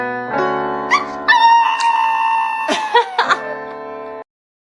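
A dog whimpers and howls in a loud, close run of drawn-out, wavering cries with sharp yelps in between, ending abruptly.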